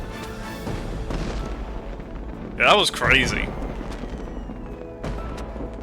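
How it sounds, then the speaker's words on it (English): An in-game fireworks show in Infinity Nikki: a pair of loud bursts with whistling, crackling sweeps midway, set against a quieter rumbling backdrop, while a voice talks. "I wonder if this is the same firework show, like, that was in that scene."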